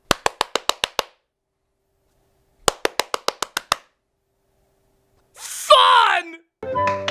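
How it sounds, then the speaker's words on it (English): Two separate rapid bursts of hand clapping, about six or seven sharp claps each, used to steer a Petster robotic toy cat, followed by a voice and a short tonal sound after a pause of silence. "His sister made it go right or left just by clapping her hands."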